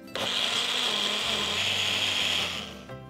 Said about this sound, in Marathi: याच्यामध्ये अजून थोडं पाणी घालूया आणि याला बारीक असं वाटून घेऊया